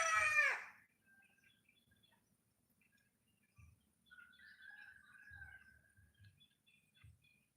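A rooster crows loudly at the start, then faint bird calls and soft clucking of chickens follow in a quiet, sunny countryside setting.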